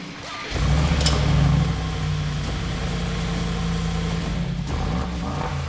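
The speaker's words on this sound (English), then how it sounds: "This is how the car sounds in normal mode." A car engine with a valve-controlled exhaust in normal mode idles with a deep, steady exhaust rumble, swelling briefly at the start and then settling into an even drone.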